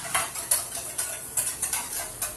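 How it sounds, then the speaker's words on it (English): Mustard powder and cider vinegar are whisked in a bowl, producing quick rhythmic metallic clicks and scrapes, close and moderately loud. "And I'm just going to whisk it up."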